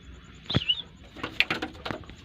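A few soft golden pigeon coos close by, short throaty calls spread across a couple of seconds with a brief higher chirp.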